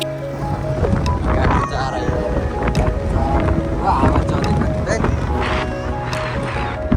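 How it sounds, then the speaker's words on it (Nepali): Wind roars and buffets steadily through a ride on the road from Golkot bazaar toward Dhorpatan, a loud continuous rumble with voices talking underneath. "हावा चाहिँ ढुक्कै चल्दो रहेछ यो"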